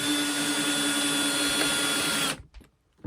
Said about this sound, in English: Need to put a hole in the center, and you just pre-drill that.